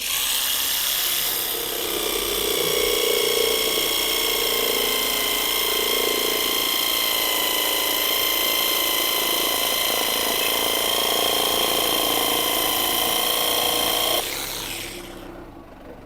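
Procraft cordless saw, fitted with its blue blade, cutting steadily through material: a loud, continuous whining cut lasting about twelve seconds before stopping abruptly, with no talking over it.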